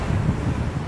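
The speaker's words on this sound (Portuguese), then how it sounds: "aqui tá vento, mas tá gostoso" Wind blowing outdoors during a craft session painting a remote-control holder, a steady low rumbling buffet against the microphone, loud and continuous with no voices.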